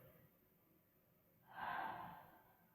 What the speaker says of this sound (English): breathing into the nose, out the mouth